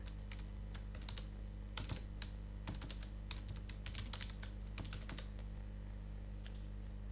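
Fingers tap on a computer keyboard in quick, uneven bursts of clicks with short pauses, close and fairly soft over a low steady hum.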